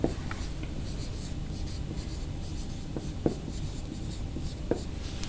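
A teacher writes numbers on a classroom board, making a continuous close scratching with small taps and strokes throughout and no talking.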